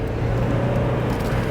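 A 2002 Mazda Miata runs through a roundabout at about 35 to 40 mph, its engine and road noise a steady mid-level drone heard from inside the car.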